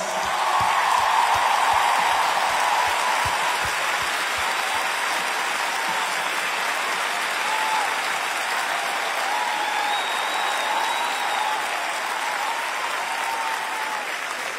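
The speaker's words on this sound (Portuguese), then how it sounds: "Um grande aplauso para o Alex." Steady audience applause at a 30th birthday celebration, loud and continuous for about fifteen seconds, a dense wash of clapping hands that fades only slightly toward the end.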